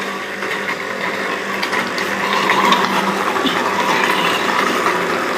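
A machine grinding onions into paste, some 30-40 kilos being processed: a loud, continuous mechanical whir and grinding drone with rattling, gear-like texture, steady throughout and without voices.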